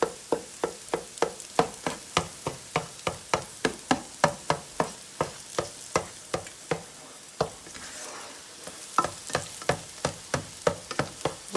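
Vegetables for Thai fried rice frying in a pan give a constant sizzle, with rhythmic scraping strokes of a spoon or spatula about twice a second and a brief pause partway through.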